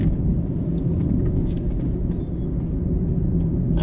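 A car driving along a road from May Pen toward Palmers Cross in Jamaica, with a loud, steady low rumble of engine and tyre noise heard from inside the vehicle.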